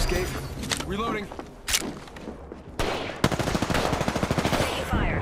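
Video game gunfire: a sharp burst, then sustained rapid machine gun fire in close, loud bursts with thuds and footsteps mixed in, while a player talks over it.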